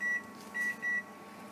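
A Toshiba Ishigama oven gives three short electronic beeps, clean and fairly faint, over a low steady hum.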